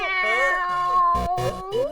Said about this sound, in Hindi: सकरू म्याऊं म्याऊं कर रहा है